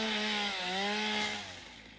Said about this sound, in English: we have a chainsaw now. And it's super freaking effective because watch this.